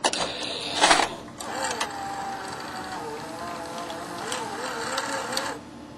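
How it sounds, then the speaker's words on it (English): A VCR mechanism threads magnetic tape from a videotape cartridge through the tape path, giving a steady, quiet mechanical whir with a soft clunk near the start, heard close and alone. "Here's another view of the tape being loaded."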